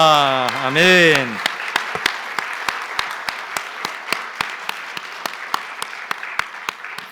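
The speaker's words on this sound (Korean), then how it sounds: "우리 같이 고백하면서 우리 박수하겠습니다" A church congregation applauds at the close of a 40th-anniversary Sunday service: a voice is briefly heard first, then a steady wash of clapping with a regular rhythmic beat that continues to the end.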